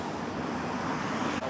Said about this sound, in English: The sound of traffic all around.